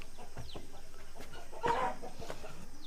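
Chickens kept beneath a goat and sheep shed cluck softly in the background, with one louder short call standing out over a steady low hum.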